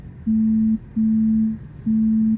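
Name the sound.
phone call signal in a car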